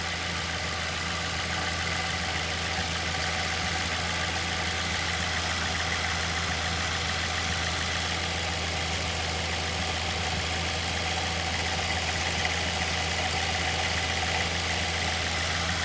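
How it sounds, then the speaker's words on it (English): A Ford Fiesta ST with a new exhaust idles steadily through a warm-up heat cycle, a constant low engine drone with no talking. "we're going to start the car and let it do a heat cycle"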